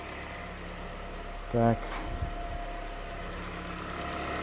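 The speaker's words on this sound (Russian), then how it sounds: "Движок работает ровно, без всяких дерганий." A Toyota Prius 30 engine idles smoothly after throttle body and EGR cleaning, a steady low even hum with no stumbling, briefly interrupted by a short beep and a spoken word.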